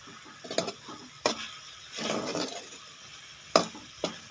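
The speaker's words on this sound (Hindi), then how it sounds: "अब इसके अंदर घी शामिल करेंगे और इसको अच्छे से भून लेंगे।" Camel meat filling being fried and stirred in ghee for an Arabic paratha, with a soft sizzle under sharp spoon scrapes and clanks against the pan, a few distinct knocks spaced across the stretch.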